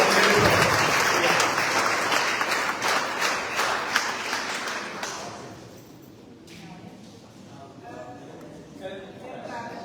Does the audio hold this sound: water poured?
no